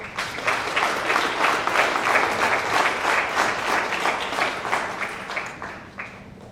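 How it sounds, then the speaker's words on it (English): An audience at a high school senior awards night applauds presenters and scholarship committees, a sustained, full round of clapping that holds steady before tapering off toward the end. "give these guys a round of applause"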